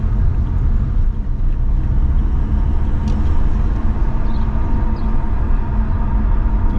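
Busy city traffic on the roads of Bucharest, Romania, makes a steady low rumble of engines and tyres that stays unbroken and fairly loud, with no talking.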